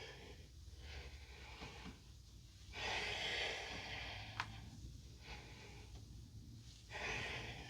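Slow, audible breaths during a yoga core exercise, long airy exhales rising and falling in a steady rhythm against a low background hum, close to the microphone with no speech.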